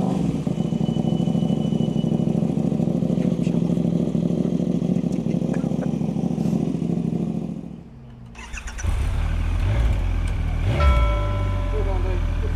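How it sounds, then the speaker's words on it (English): A BMW motorcycle idles loudly nearby, its rumble dipping briefly before the engine picks up again and revs as the bike pulls away, with voices faintly underneath. "There he goes, Steve, aka Exeter Rider."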